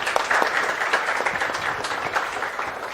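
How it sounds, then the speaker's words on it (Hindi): Students in a live Chartered Accountancy lecture clap loudly together, a dense burst of hand claps with sharp individual smacks that holds steady for a few seconds. "एक बार मैं चाहती हूँ आप लोग अपने लिए एक बार जोरदार तालियां बजा दो."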